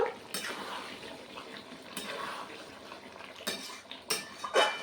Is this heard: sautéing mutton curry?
yes